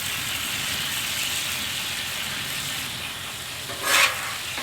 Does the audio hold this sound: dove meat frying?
yes